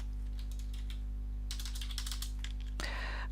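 Keys clatter on a computer keyboard while an account name or number is entered into a journal, with a few scattered taps, then a quick burst of close, crisp keystrokes and a final sharp clack, with no talking.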